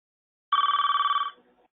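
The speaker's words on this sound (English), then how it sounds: "I'm not quite sure what to do with that ringing" A telephone rings once during a webinar: a clear electronic trill of rapid pulses lasting under a second, then fading out, with silence before and after.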